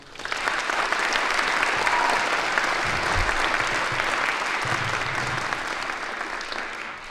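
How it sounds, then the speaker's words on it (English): An audience at a Saint Mary's school fall music concert applauds the students, a steady, dense round of clapping that holds for about seven seconds before easing slightly at the end. "So let's give all the students a round of applause,"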